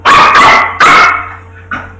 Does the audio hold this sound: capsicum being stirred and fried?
no